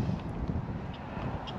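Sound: strong wind blowing outdoors

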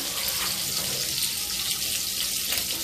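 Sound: seafood boil pot boiling

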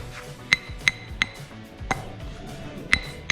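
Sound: chiselling with a homemade chisel for electrical boxes

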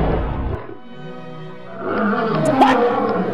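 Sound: monster lion roaring in animated fight

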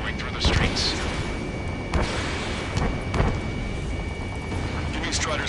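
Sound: gunfire and jets in video game

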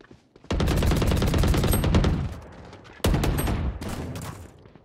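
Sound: gunfire from a shooter video game

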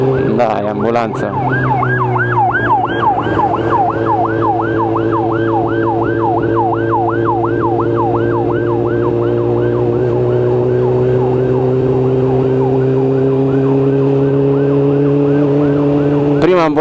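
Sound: ambulance siren

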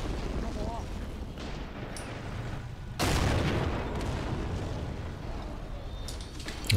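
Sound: machine gun fire in a war video game

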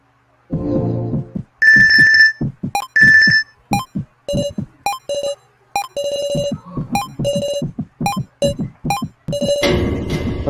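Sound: tablet ringing sound in video game Your Turn To Die

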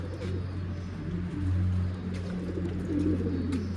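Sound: pigeons cooing in a coop

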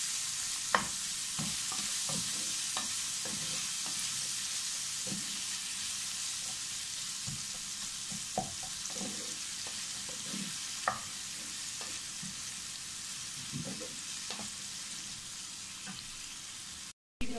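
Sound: onions frying in a pan for sweet potato rava

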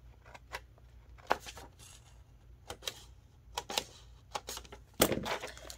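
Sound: hole punching planner pages

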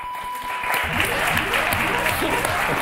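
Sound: studio audience applause on a game show

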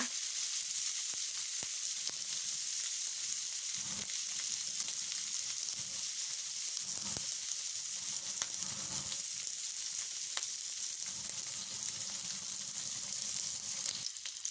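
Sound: frying fatty pork belly to render the fat

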